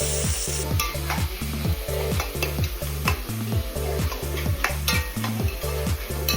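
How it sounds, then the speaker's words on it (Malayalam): Onions sautéing in a pan for chicken curry gravy, a constant sizzle under rapid, rhythmic metal scraping and clanking of a spoon against the pan, close and fairly loud, with no voices. "നമ്മളിതേ സബോള വഴറ്റുന്ന പരിപാടി കേട്ടോ"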